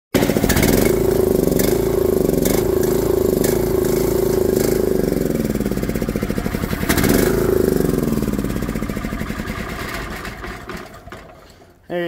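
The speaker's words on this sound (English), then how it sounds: "There you go, it runs off carb clean." A small square bale chopper's engine runs steadily and loud, a rough buzzing idle with a brief rev near the middle, then winds down and cuts out at the end.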